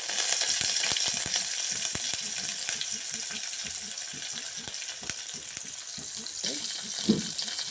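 Coriander seeds go into hot oil in a pan while making tomato chutney, sending up a continuous close sizzle with scattered crackles and pops throughout.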